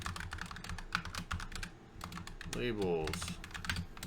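Rapid computer keyboard typing while code is entered, a dense clatter of close keystrokes running throughout as someone talks over it.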